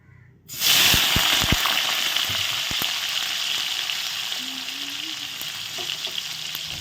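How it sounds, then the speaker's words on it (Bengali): Paneer dropped into hot oil bursts into a loud, steady sizzle that stays dense and close after the first splash, with a few faint clinks and no speech. "তেল গরম হয়ে গেছে এখন এই যে দেখো এখন আমি দিয়ে দিচ্ছি এই যে পনির"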